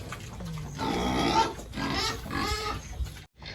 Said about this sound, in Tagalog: pinakain na dilinis po namin yung baboy ni Liana.